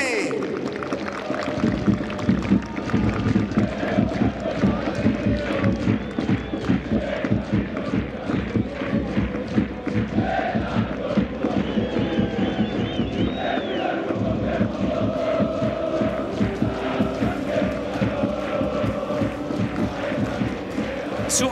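Football stadium crowd roaring and chanting in a tribute to former player Rafi Logasi, a dense continuous wall of cheers and rhythmic clapping that holds loud for the whole stretch.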